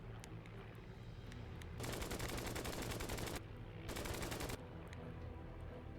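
Rapid machine gun bursts from WWII fighter aircraft in the arcade flight game Flying Tigers: Shadows Over China. Two loud sustained bursts ring out over a steady engine drone, with no talking.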